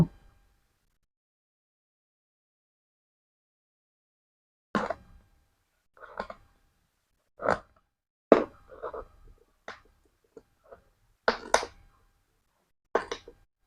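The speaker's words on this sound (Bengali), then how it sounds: "তো প্রথমে আমি এই বোতলটাকে এখান থেকে কেটে নেব।" A plastic water bottle being cut: a series of short, crisp snips and plastic crunches in irregular bursts after a long silence, close and clear with nothing else audible.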